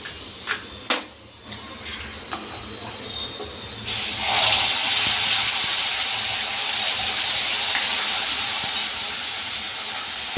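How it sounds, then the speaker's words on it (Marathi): Masala spice mix frying in hot oil gives off a steady, bright sizzling hiss that jumps louder partway through and keeps on evenly, close up and with no speech over it. "तर मस्त मसाला तेलामध्ये मी आता परतायला टाकलेला आहे."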